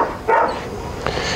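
A dog at a boarding kennel with huskies, golden retrievers and Malinois barks once loudly and close, followed later by a second, shorter yelp.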